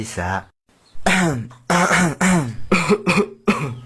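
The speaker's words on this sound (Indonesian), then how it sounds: "Batuk" A few short, harsh coughs and throat-clearing bursts come close up, separated by brief pauses.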